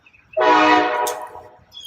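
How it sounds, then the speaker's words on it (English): A train passes nearby in a short burst of loud, broadband rumble and rattle with a tonal horn-like edge, lasting about a second before fading. "That's a train."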